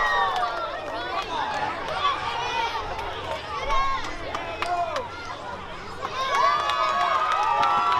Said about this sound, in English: And the crowd starting to come alive